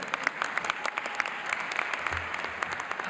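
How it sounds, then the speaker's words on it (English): Graduates and guests applaud at a WashU 2024 engineering bachelor's and master's commencement ceremony, a sustained patter of many distinct claps heard at a distance and fairly soft. "you can give it a round of applause"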